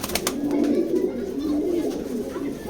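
A male foreign-line pigeon at a pigeon loft coos in a steady, low, continuous rumble that runs the whole time, close and fairly loud, with faint bird calls overhead.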